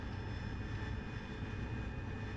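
Steady, even roar of an AV-8B Harrier jet engine in the DCS flight simulator, heard during a vertical take-off with the nozzles being rotated. It is a constant broadband whoosh with a faint whine above it, moderately quiet and unbroken.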